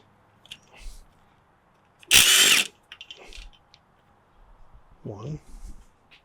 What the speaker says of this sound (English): now let's pull some bolts, shall we?